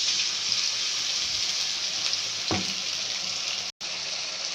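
A ginger, garlic and green chilli paste fries with softened tomatoes, giving a continuous bright sizzle with a brief scrape partway through and a sudden cut to near silence just before the end.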